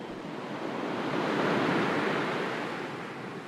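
Sea waves roll in as a broad, soft wash that swells to a peak and recedes, a calm continuous surf sound with no voices.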